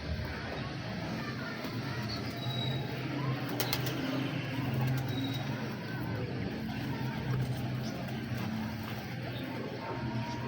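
Pigeons cooing in a loft, low repeated coos recurring across the whole stretch amid steady background hum and faint distant noise, with a voice briefly present.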